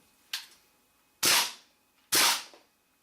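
A GHK AKM airsoft rifle fires three separate sharp cracks, the last two louder and more forceful than the first, close by with short silent gaps between shots.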